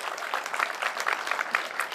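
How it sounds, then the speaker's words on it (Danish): Audience applause at a Danish town hall event celebrating a sustainable public building, a steady wash of clapping hands throughout, moderately loud and close, with no voices on top. "det er godt fortjent et klap, Salve."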